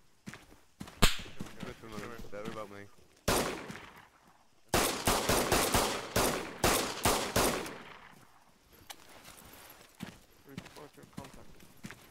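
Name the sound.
gunfire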